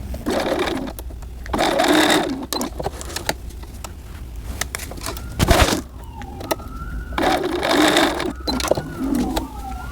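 A sewing machine runs in bursts of rapid mechanical stitching through pinned fabric for a bodysuit, starting and stopping several times, with a faint siren wailing in the background.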